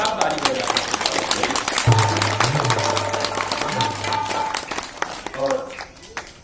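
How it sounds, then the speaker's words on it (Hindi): Dense, continuous clapping from an audience at a Guru Purnima devotional gathering, with a voice and sustained tones heard over the applause before it thins out at the end. "तो जोरदार ताली बजाएं।"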